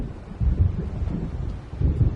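Low rumbling thunder from an approaching storm over the waves in the Alan Wake video game, deep rolling swells rising and easing in two surges over a steady windy bed.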